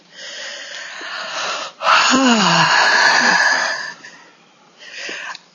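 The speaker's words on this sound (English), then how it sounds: "Nice deep breath." A person takes a slow, deep breath close by, a long breathy inhale and exhale with a wheezy, slightly nasal tone, followed by a shorter, softer breath.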